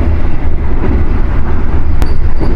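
The Argo Sindoro executive train, a stainless steel new generation set, running along the line, heard as a loud continuous low rumble of wheels on track with a brief sharp click near the end.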